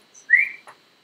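A single short rising whistle from a person calling an old, hard-of-hearing dog, clear and close against near silence.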